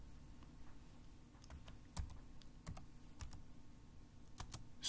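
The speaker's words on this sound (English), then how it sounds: "enter the following three commands, one at a time, hitting the Enter key after each command" Keys click sparsely on a computer keyboard while commands are typed, giving quiet, irregular taps with a few sharper strikes, close and alone without talk.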